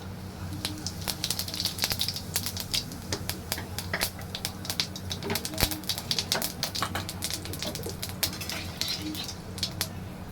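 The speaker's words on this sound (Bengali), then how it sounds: "এবার এই তেলেই আমি দিচ্ছি জিরে" Cumin seeds sizzle in hot oil left over from frying fish for a Bengali-style spicy fish curry, giving dense, irregular crackles and sharp pops over a soft steady hiss, close and alone without talk.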